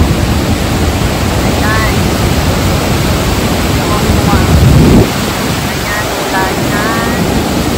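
Waterfall rushing as a loud, steady broadband roar with brief voices talking over it.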